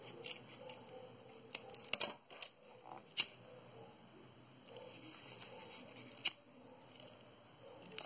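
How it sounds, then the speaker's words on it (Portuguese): Scissors trim the ends of satin ribbon for a boutique bow, giving a few short, crisp snips spread across a quiet room with faint background noise and no talking. "Eu vou cortar as sobrinhas aqui"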